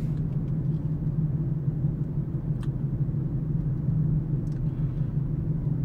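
Toyota RAV4 cruising along York Road, heard from inside as a steady low engine and road rumble with constant tire hum, a couple of faint clicks above it, and no voices.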